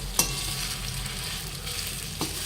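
Fenugreek (methi) seeds roasting in a pan over a low flame, a steady soft sizzle and crackle with a couple of light scrapes from stirring.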